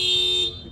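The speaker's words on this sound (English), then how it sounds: "That car alarm's trying to make some music." A car alarm blares a steady, loud electronic tone that holds for about half a second, then drops away in volume, with no voices heard.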